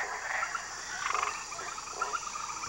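Tiny poison dart frogs call from lush rainforest canopy vegetation, a faint mesh of thin chirps and trills over a steady humid background hiss, with no voices.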